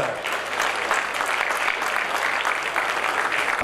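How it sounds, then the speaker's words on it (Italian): Steady, dense applause from an audience at the Expo Sport event for the Venice Marathon, a continuous wash of clapping that stays loud and even throughout without any voices standing out. "un bellissimo applauso a Expo Sport."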